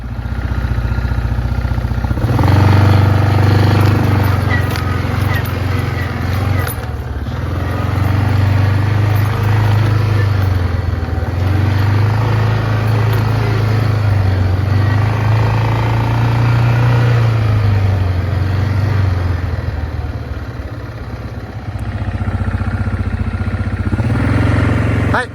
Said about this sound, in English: Ed let us just borrow the 4-wheeler. I don't know if that's smart or not. I'm not too crazy, but it's fun to drive